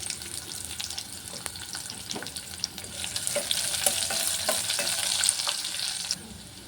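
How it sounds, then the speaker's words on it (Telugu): Chopped green chillies and onions frying in oil in a pan for a quick gram flour chutney, a dense close sizzle with stirring scrapes and light clinks that grows louder toward the end. "పచ్చిమిర్చి వేసి వేయించుకోవాలి తర్వాత ఇందులోనే ఆనియన్స్ వేసి వేగనివ్వాలి"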